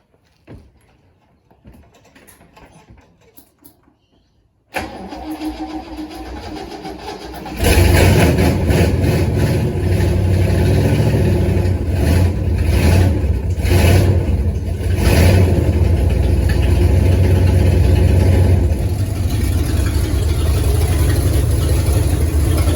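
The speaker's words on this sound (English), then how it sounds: "like a V8 now, and it hasn't got a leaking manifold noise," A Ford F100 pickup's V8, fitted with a new full exhaust, cranks and catches partway through, then settles into a loud, deep, rumbling idle that continues steadily up close.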